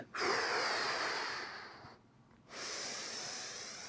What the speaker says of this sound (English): Inhale down, exhale up, slow and smooth.